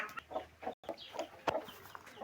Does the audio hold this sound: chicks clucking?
yes